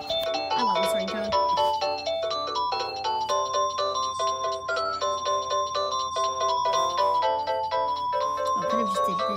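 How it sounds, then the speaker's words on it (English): Ringtone from a Panasonic KX-TGA653 cordless phone handset, a bright electronic melody of quick repeated chiming notes playing loudly and continuously without pause. "I love this ringtone."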